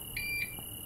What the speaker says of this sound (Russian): А что пикнуло? Вот он, кассовый аппарат, смотрите.